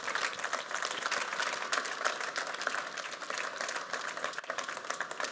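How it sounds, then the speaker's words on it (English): An audience at the Krones Forum at drinktec, a trade fair, applauds an expert taking the stage, giving steady dense clapping with individual sharp claps standing out at moderate distance and no talking. "please give a round of applause for the expert to my right"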